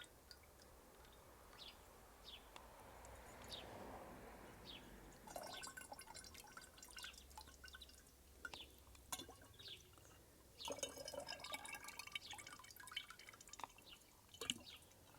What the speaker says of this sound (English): it's such a hypnotic thing filling up these bottles